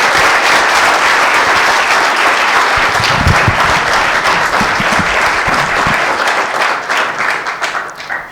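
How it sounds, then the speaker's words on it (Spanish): Loud, sustained applause from an audience for José Luis Espert at a talk for a liberal youth group, a dense wash of clapping that holds steady for most of the clip and fades near the end. "les quiero pedir un muy fuerte aplauso para José Luis Espert"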